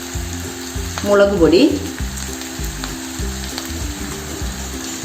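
Kerala-style chilli chicken sizzling in a pan as it is stirred and mixed, a loud, close frying hiss with scraping strokes and a short spoken remark over it.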